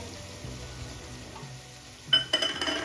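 Masala with crushed peanuts sautéed in a pan over a medium flame, a faint steady sizzle that gives way to louder scraping and clinking stirring toward the end.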